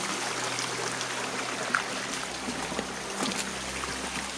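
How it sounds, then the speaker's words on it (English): Fresh mountain water flowing steadily in a stream on a nature walk to hot springs in a forested national park, a continuous close, bright rushing and trickling wash with no talk. "this is just the fresh water that comes from the Lindor"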